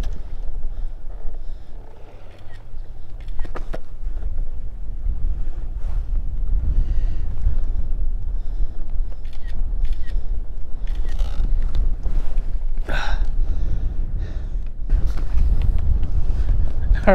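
Strong, gusty wind roars across an open fishing boat on a central Minnesota lake. A deep, constant rumble buffets the microphone throughout, with a few faint knocks now and then.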